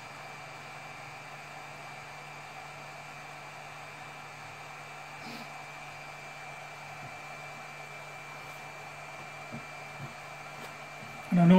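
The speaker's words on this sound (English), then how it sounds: "The blower carries on blowing." Hot air blower of a low-cost solder station runs with a steady, even whoosh and a constant electrical hum, a few faint clicks near the end.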